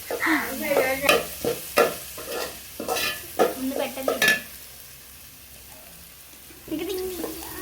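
Ginger-garlic paste scraped and stirred in a pan while duck curry fries, a run of close, uneven scraping strokes over a sizzle, then a quiet pause before stirring resumes.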